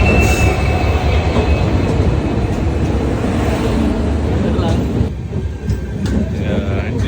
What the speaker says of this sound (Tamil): நாங்கள் போகிற ட்ரெயின் வந்துவிட்டது.